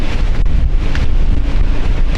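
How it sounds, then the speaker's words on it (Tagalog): Strong wind buffets the microphone on a Boracay beach, a loud continuous roar with gusty rumble and possible surf beneath. "Grabe yung lakas ng hangin. Guys, lakas ng hangin."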